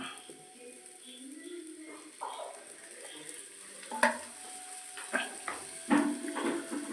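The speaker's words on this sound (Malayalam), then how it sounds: "നടുക്കൊരു ചെറിയൊരു കുഴിയാക്കിയിട്ട് ഒരു കുറച്ച് വെളിച്ചെണ്ണ ഒഴിച്ചു കൊടുക്കാം" Coconut oil poured into a well in the middle of sautéed onions in a pan for a roasted-coconut chicken curry, a soft rising sizzle with a few spoon scrapes and clinks, close and fairly quiet.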